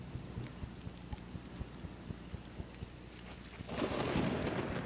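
Steady rain falls with low rumbles of thunder, and the downpour swells much louder and heavier toward the end, like a storm breaking close by.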